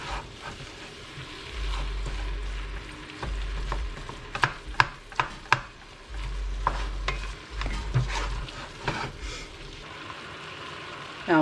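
Deer meat browning in a pot for chili sizzles steadily while a spoon stirs it, with scattered scraping clicks against the pot and a low hum underneath.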